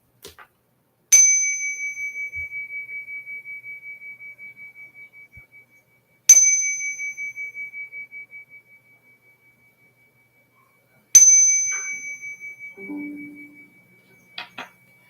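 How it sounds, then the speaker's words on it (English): A small bell is struck three times at roughly five-second intervals, each strike a bright, clear ring that slowly fades away in an otherwise quiet room. "No, let me do the bell."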